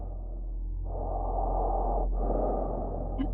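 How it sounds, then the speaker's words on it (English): Heavy, slow breathing just outside a window, two long drawn breaths close and audible against a low steady hum, with a brief pause between them. "there was the sound of someone's heavy breathing right outside one of the many windows in the room"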